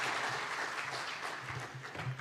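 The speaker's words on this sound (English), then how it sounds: "One more time, a round of applause" Brief burst of steady crowd applause at an official opening attended by Kenya's President Ruto at Sarit Centre, dense clapping throughout at a moderate level.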